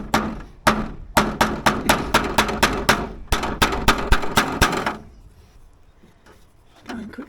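Chisel being hammered with sharp, rhythmic wooden knocks while installing a downpipe through corbels, about a dozen close, evenly spaced blows in two runs, then quiet.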